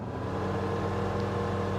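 A Diamond DA-20 C1 Eclipse light aircraft engine running in Microsoft Flight Simulator, a steady droning hum with a low throbbing rumble that holds even and continuous throughout, with no voices.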